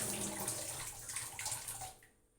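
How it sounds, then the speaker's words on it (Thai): Running water splashes steadily while hands are washed during preparation of a Thai glass noodle salad, a continuous close rush that tapers off near the end. "ล้างมือก่อนแล้วค่อยคน"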